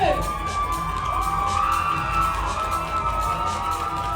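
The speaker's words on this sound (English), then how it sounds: "keep shouting and screaming" A convention crowd cheers, shouts and screams continuously, a loud dense roar with high whoops and screams running throughout.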